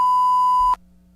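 A loud, steady censor beep at a single pitch, dropping in over hot-mic broadcast audio at a 2012 Texas A&M vs Alabama college football game in Tuscaloosa, holds for about three quarters of a second and then cuts off abruptly.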